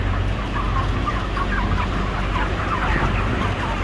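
Broiler chickens cluck in a coop, a dense steady murmur of many birds under a constant background hum, close and continuous with no talk.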